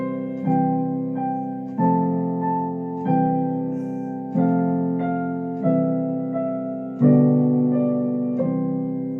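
Twinkle Twinkle Little Star played in a major key on a sustained, piano-like keyboard, a slow steady line of evenly spaced notes with ringing decays, heard alone and close.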